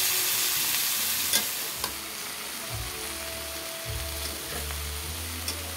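Bitter gourd and potato fry in a pan with a steady, close sizzle, while a spatula scrapes and stirs at intervals, making low scraping strokes beneath the crackle.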